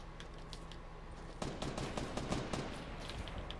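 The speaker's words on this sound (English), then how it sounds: "Is that you shooting?" Rapid bursts of gunfire from a Fortnite Battle Royale match, a dense clattering volley that jumps louder midway and keeps crackling in quick irregular shots.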